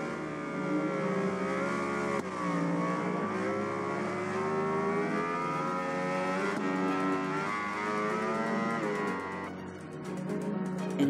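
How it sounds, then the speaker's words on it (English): Game-engine MotoGP race bikes from MotoGP 20 scream around the Silverstone circuit, a continuous high-pitched engine whine rising and falling with gear changes, steady and fairly faint. "that's some aggressive riding from Rossi there"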